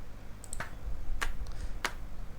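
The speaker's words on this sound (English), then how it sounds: "This is how these clap sounds" Clap samples in an FL Studio drum mix, three separate sharp dry hits spaced roughly evenly, played alone over a faint low background.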